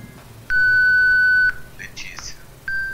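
A clean electronic beep from a face-recognition device sounds for about a second, followed by a brief soft voice naming a person and a second short beep.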